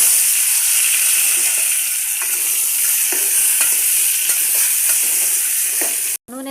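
Cucumber pieces, onions and turmeric fry in hot oil with a loud, continuous sizzle, while soft stirring scrapes break through at intervals; the sound stops abruptly at the end.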